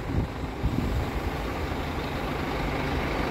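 Low, steady rumble of an idling Autoviação 1001 Scania K360 single-axle bus with a Marcopolo 1200 body, a close, even engine drone with a few heavier thumps early on.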